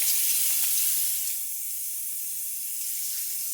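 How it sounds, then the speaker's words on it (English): Running water splashes steadily as a woman rinses her face at a sink during a morning skin care routine, a close, continuous broadband rush that eases slightly partway through, with no talking. "So I'm going to rinse my face"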